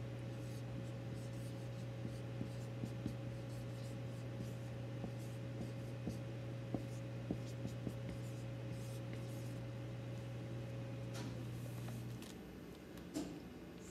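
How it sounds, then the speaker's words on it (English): A marker writes large letters on paper, giving soft scratchy strokes and light taps close by over a steady low electrical hum, which stops near the end. "And really big, we're gonna write friend of Jesus"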